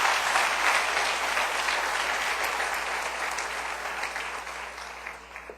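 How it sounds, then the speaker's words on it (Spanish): A church congregation applauds in praise of the Lord with dense, steady clapping that holds for several seconds and slowly thins toward the end. "Dele un aplauso al Rey bendito"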